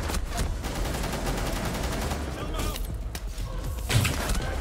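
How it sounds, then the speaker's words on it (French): Gunfire in Rainbow Six Siege, with dense bursts of shots and impacts rolling through a tense round at a barricaded site, mixed with constant game noise and no voices over it. "Ça tire d'où là?"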